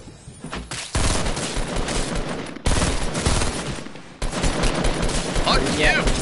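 Rapid bursts of gunfire from a Fortnite battle royale match, loud and sustained with several sharp cuts between volleys, dense and close throughout the clip.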